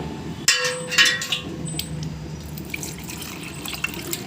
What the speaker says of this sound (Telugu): ఇప్పుడు చింతపండుని ఇలా రెండు మూడు సార్లు బాగా కడిగి నానబెట్టుకోండి